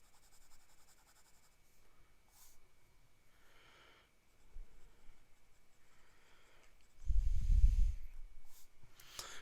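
Scribo fountain pen with a medium nib writing on paper, faint scratchy strokes in short bursts at close range, ending in a louder rustle near the end.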